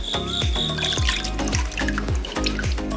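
A Rust-Oleum NeverWet-coated object is dipped into water, giving a light wet trickle and dribble with soft repeated splashy pulses, close and moderately loud, with no talking.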